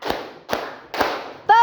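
Hand claps in an ice-breaking clapping game with a class group: three sharp, evenly spaced claps about half a second apart, loud and close, followed by the start of a voice.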